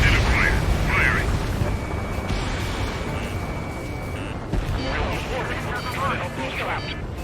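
Missiles fire and explode in Ace Combat 7 during a pipeline destruction mission, heavy rumbling booms and blasts rolling over continuous jet roar, with radio voices talking over the noise.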